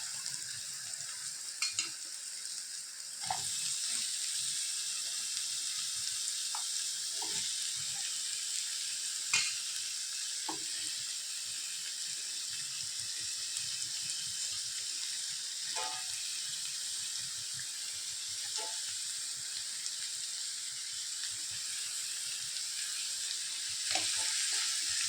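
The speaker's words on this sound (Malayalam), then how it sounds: "ഇതിലേക്ക് ഇപ്പോൾ ഉള്ളി ചേർക്കാം" Onions fry in a little oil for Mangalore-style pork chilli, a steady soft sizzle running throughout with occasional stirring clicks and scrapes, close and fairly quiet, with no talking.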